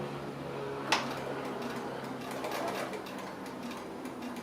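Sewing machine running a steady, quiet stitching hum through a curved quarter-inch seam with pins left in, one brief sharp click near the start, no voices.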